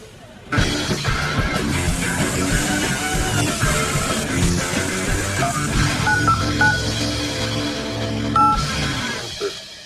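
Telephone keypad buttons pressed repeatedly in a workshop, a string of short touch-tone beeps scattered over a dense, busy background of clatter and noise, fairly loud and steady for several seconds.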